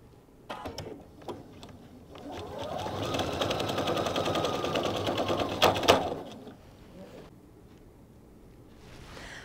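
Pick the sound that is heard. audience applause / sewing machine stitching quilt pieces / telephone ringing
sewing machine stitching quilt pieces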